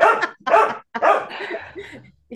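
A dog barks close by indoors, several loud, quick barks in a tight cluster that trail off into a soft whine, with no one speaking.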